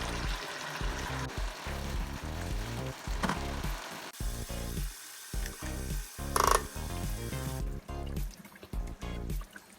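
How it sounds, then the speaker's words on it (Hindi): Chicken gravy for biryani sizzles and bubbles in a pot, with steady frying noise and occasional stirring clinks up close, with no talking. "बिरयानी की ग्रेवी है चिकन की वो भी तैयार हो रही है"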